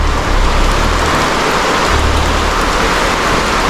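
Steady, dense rain drumming on a vehicle on a mountain route, loud and continuous with a low rumble underneath, no voices.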